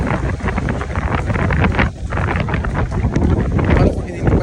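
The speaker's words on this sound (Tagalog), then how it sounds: "Grabe lakas ng hangin." Strong wind from Typhoon Ragasa in Macau roars and buffets the microphone, loud and continuous with gusty rises and falls throughout and no break.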